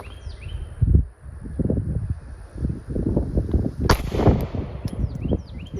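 Test firing of a Tyrant CNC HELLCAT pistol outdoors, a handful of sharp, loud reports spaced a few seconds apart with wind and faint birdsong in the background.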